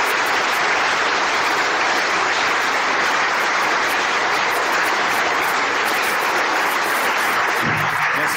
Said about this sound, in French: Je ne sais pas si tu as suffisamment le retour pour entendre les applaudissements